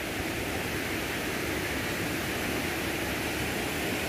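Powerful waterfall heard close up, a dense, loud, unbroken rushing roar of falling water that stays steady throughout with no voices.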